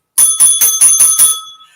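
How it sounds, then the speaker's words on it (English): A small bell, like a bicycle bell, rings six times in quick even succession, bright and close, then its metallic tone fades. "My friend gave me a bell."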